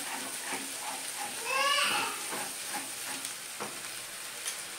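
Ground masala paste with raw peanuts sautéed in a pan for dry brinjal curry, a steady soft sizzle with a few scraping stirs from the spatula close by and a brief louder swish of stirring.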